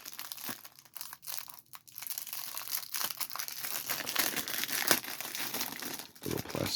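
A small plastic envelope holding stickers is opened with close, irregular crinkling and crackling bursts and brief pauses, heard alone with no voices.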